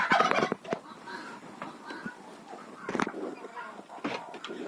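Turkeys and chickens on a village farm: repeated gobbling and clucking calls come in uneven bursts, loud at the start and then scattered throughout, against faint background noise.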